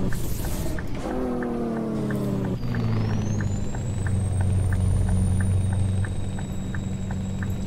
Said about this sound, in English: So even at 1500 RPM, that sounded like it was too high of a rev.